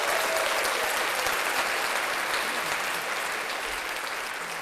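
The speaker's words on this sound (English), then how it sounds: "Let's clap Gail up." Studio guests on a podcast break into steady, dense clapping for Gail Jackson, sustained evenly for several seconds without any talking.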